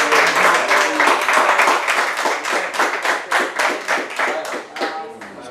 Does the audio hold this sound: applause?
yes